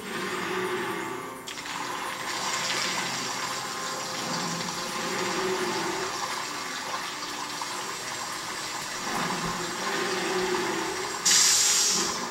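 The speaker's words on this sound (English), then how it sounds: "Might as well go get some new water." Water being collected in a Lego Harry Potter video game, a steady gushing, running-water sound like a tap or flush that holds for the whole stretch at a constant level, with a brighter splash burst near the end.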